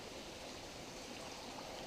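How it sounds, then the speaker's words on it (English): Stover Creek on the Appalachian Trail flows in a steady, soft rush of water, continuous and unbroken with no voices. "Stover Creek flowing down through here."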